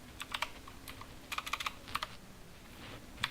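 Computer keyboard keys clacking in short bursts of quick, close keystrokes with brief pauses, someone typing Python code, no talking.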